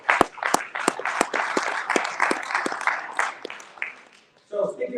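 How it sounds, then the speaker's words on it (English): Audience applause at a speaking event for a board of advisors mastermind gathering, a dense crowd clapping with sharp individual claps standing out, sustained for about four seconds before dying away into a short pause and a few faint sounds. "I just want to give him a round of applause for bringing this together."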